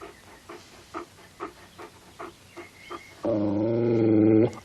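A dog with a badly swollen, infected paw growls in a series of rhythmic low pulses while being treated, then lets out a louder, sustained throaty rumble up close.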